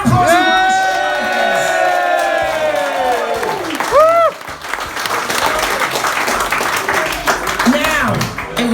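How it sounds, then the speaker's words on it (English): A crowd at a two-ball rally event for an R53 Mini Cooper S breaks into loud, sustained applause mixed with whoops and cheers, with voices calling out over the clapping throughout. "Round of applause."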